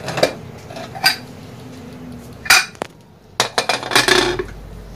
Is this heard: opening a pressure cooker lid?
yes